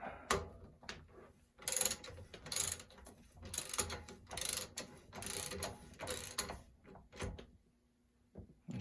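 Ratchet tool clicking in bursts while tightening a bicycle bottom bracket during an upgrade to a sealed bearing unit, close and fairly loud, with short gaps between strokes.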